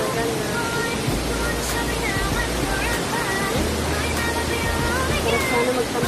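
Shifen waterfall in Taiwan roars as a steady, dense rush of falling water, loud and constant throughout, with a voice speaking over it.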